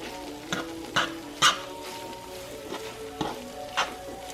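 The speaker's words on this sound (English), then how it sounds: "I'm going to add in the tomato sauce and then the pasta into the pan as well and kind of saute it all together and mix it up" Spinach, tomato sauce and pasta sauté together in a pan with a steady soft sizzle and several sharp scraping stirs of a utensil against the pan, close and without talk.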